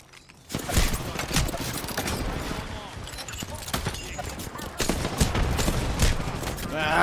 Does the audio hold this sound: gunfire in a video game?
yes